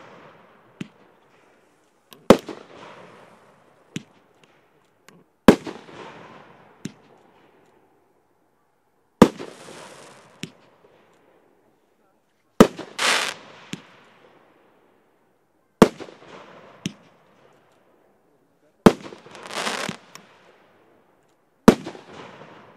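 A 4164 Big Shots consumer fireworks battery firing single shots outdoors, eight sharp launch thumps spaced a few seconds apart, each followed by a loud crackling burst that fades into quiet.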